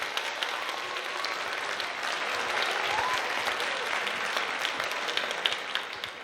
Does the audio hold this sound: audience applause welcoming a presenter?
yes